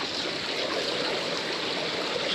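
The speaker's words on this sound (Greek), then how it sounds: "Ακολουθώ το ποτάμι." A river stream flows through a forest with a steady, close rushing and babbling of water and nothing else heard.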